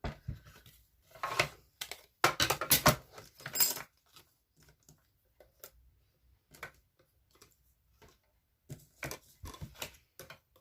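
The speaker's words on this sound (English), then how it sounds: "the other thing I need to die cut are the clouds, so I'll bring that back again and do that now" A paper-crafting die cutting machine cranks paper cloud shapes through its rollers, giving bursts of clicking, ratcheting mechanical noise with quiet gaps between passes and a final short run at the end.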